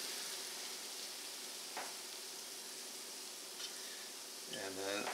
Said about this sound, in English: I'm going to keep this iron in the hot oil. Look at how quickly these cook.